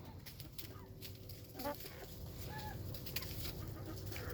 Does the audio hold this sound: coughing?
no